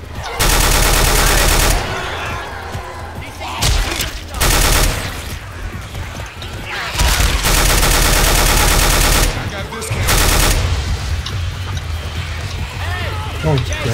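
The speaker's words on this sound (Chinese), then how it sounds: "后面有枪声" Rapid bursts of automatic gunfire rattle through a Left 4 Dead 2 match, coming in several loud sustained volleys separated by quieter stretches, with players talking over the action.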